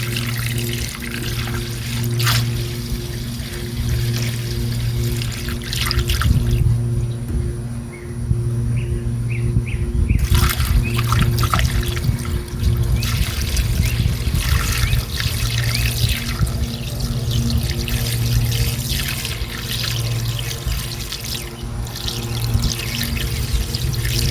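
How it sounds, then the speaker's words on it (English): Antifreeze poured through a poor-quality funnel into a 1974 Dodge, a steady trickling, splashing flow over a constant low engine-like hum, continuing without pause for the whole stretch with no talk. "put some of this antifreeze in there"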